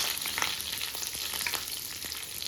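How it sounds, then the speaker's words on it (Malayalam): Curry leaves sizzle in hot oil in a pan along with coconut pieces and mustard seeds, a loud continuous close frying hiss with light stirring scrapes throughout. "ശകലം കറിവേപ്പിലയും ചേർത്ത് കൊടുക്കാം."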